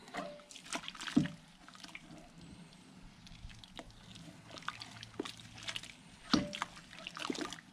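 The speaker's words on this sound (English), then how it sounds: "I'm just going to finish this stirring" A brew-in-a-bag mash for a Yorkshire bitter is stirred in the pot, giving quiet, intermittent sloshing and a few sharper liquid splashes and drips, close by over a low background with no talk.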